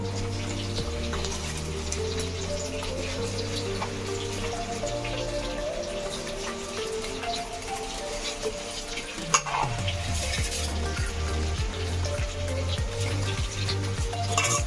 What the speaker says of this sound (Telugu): చూడండి ఒకసారి బియ్యం వేసుకుంటున్నాను నేను